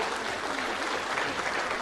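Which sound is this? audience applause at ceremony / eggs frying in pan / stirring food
audience applause at ceremony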